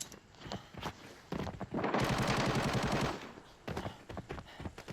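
Gunfire in the video game Arena Breakout: sporadic single shots, then a dense, loud sustained burst of automatic fire lasting about a second and a half, followed by more scattered shots, with no speech.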